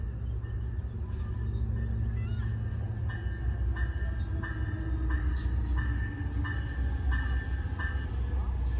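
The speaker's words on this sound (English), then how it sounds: "this train just arrived right now" Amtrak Capitol Corridor passenger train arriving at Santa Clara University station, a continuous low rumble with rhythmic wheel clicks over rail joints as the cars roll past steadily, with faint talk in the background.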